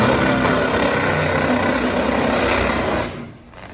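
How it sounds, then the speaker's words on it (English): Top Fuel nitro motorcycle engine during a burnout, deliberately running on fewer cylinders, producing a loud, steady, harsh roar that cuts off abruptly near the end. "Larry has the bike only running on so many cylinders during the burnout to keep the motorcycle cool."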